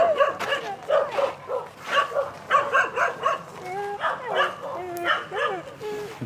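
A dog barks and yips repeatedly in quick, uneven bursts, close and fairly loud, with people talking around it.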